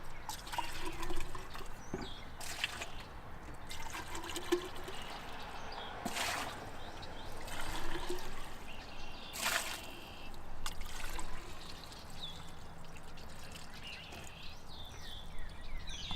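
Water runs and splashes as developer is rinsed out of a film developing tank on location, a faint, close trickling and sloshing with a few brief louder pours.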